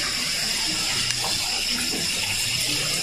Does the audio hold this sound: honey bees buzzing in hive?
no